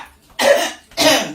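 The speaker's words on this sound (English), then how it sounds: "Clear your throat." Two short, forceful throat-clearing bursts, close and fairly loud, separated by a brief pause in a quiet interview setting.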